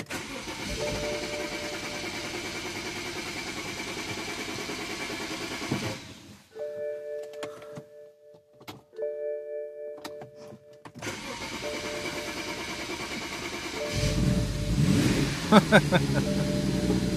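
A BMW with a crank-no-start fault tied to its DME, CAS and EWS cranks over. The ignition chimes in short beeps, and then the engine catches and revs up loudly, with a voice heard near the start.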